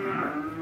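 A single short moo from a Limousin or Simmental cow in a cattle barn, close and fairly loud.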